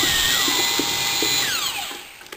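A power drill mixing drywall mud whines at high speed and then spins down, its pitch sliding lower as it slows to a stop.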